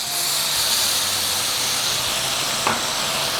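Wine poured into a pan of toasting rice for a beet risotto, giving a steady loud hiss and sizzle with a brief sharp burst near the end.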